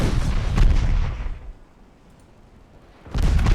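Naval artillery fire in the video game Ultimate Admiral Dreadnoughts: a loud, close booming salvo with a rumbling tail, a quiet pause of about two seconds, then another heavy blast.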